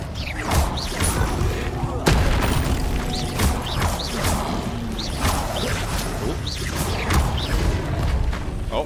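Incendio fire spells cast repeatedly during a crowded Hogwarts Legacy fight: sharp whooshing bursts and heavy thumps recur every second or so amid dense battle noise, with an occasional voice.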